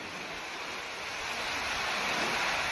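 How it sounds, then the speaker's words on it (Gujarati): Strong gusting wind roars in a steady broadband rush in Jamvadi village, with rain blended into the noise, building slightly louder toward the end. "આ કેવો પવન છે."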